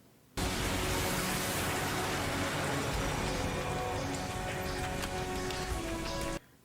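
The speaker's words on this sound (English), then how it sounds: "And for the dramatic effect, we're going there while it's raining and dark." Steady rain falls at night in a TV show scene, a dense, even hiss of drops that starts abruptly, holds for about six seconds and stops just as suddenly, with no voices.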